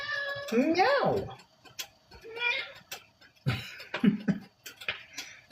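A cat in a home kitchen gives a loud, drawn-out meow close by, followed by shorter, fainter meows and chirps spaced out across a quiet room.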